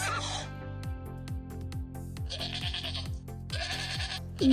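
Goat bleating over a steady, repeating background music beat, two short bleats in the middle of the stretch, fairly clear and close.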